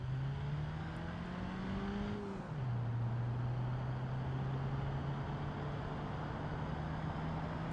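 A four-door sedan in a BeamNG.drive drag race accelerates hard, its steady engine tone climbing in pitch, dropping briefly at a gear change, then climbing again, loud and continuous with no talking.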